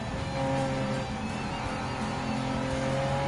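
Turbo sports car engines racing in Gran Turismo 7 on Grand Valley highway, a steady droning engine whine held at high revs with a faint pass-by swell, continuous and fairly close throughout.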